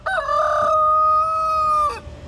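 A rooster at a farm beside a castle, alongside goats and emus, gives one loud, close, sustained cock-a-doodle-doo crow lasting nearly two seconds, with no talking.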